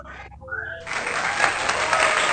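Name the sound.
audience applause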